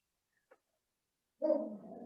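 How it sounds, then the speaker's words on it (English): A dog sounds off once in the background of an online fundraising roundtable: a tiny faint yip, then after a pause a fuller, louder bark-like sound that trails into a rough sustained whine or growl, with no talk over it. "Oh, don't mind the dog."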